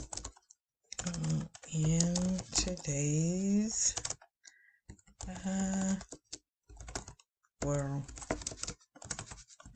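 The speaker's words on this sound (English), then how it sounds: "I am actually just typing" Typing on a computer keyboard produces rapid, irregular key clicks in short bursts, heard close and clear under and between a person's speech.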